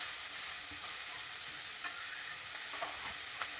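Coriander seeds dry roasting in a pan give a quiet, steady hiss, with a few faint scrapes and light clicks as they are stirred, and no voices.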